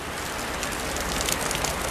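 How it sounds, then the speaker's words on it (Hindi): Heavy, steady rain pours down on an open grain market in Karnal where wheat lies exposed, a dense continuous hiss with no voices. "करनाल की अनाज मंडी से, जहां पर लगातार तेज बारिश होती हुई नजर आ रही है"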